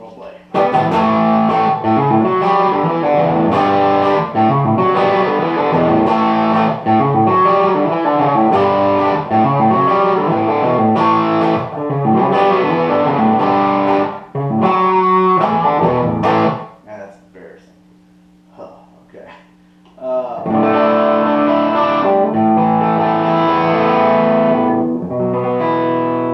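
Driven electric guitar played through a Living Tone Mk18 amplifier with its boost engaged, loud, crunchy strummed chords and riffs with a quieter sustained pause before heavy playing resumes.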